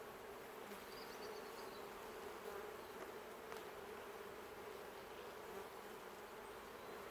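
A dense, steady hum of honeybees buzzing around an open hive during autumn colony preparation for winter, continuous and close throughout, with no other sounds.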